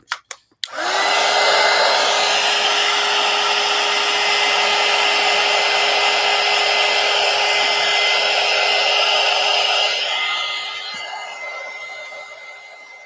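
A hair dryer drying paint on an art card switches on after a few clicks and blows loud and steady at close range, then drops in strength near the end.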